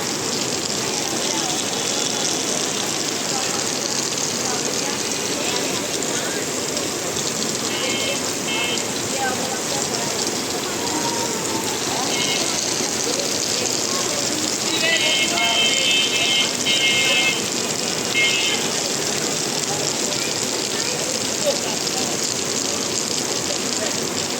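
Heavy rain pours down on a Dhaka street and a shop's overhead sheet, making a steady, dense hiss that lasts the whole time. Voices can be faintly heard at times.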